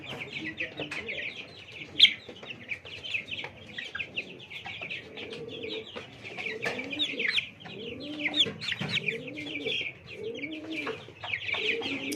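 Young Tiger-breed chickens, about twenty days old, on a poultry farm give repeated soft clucks and chirps, close by and continuous, with quiet background hum.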